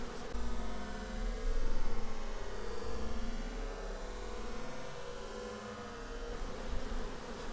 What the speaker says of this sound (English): Did you see that bee charge me?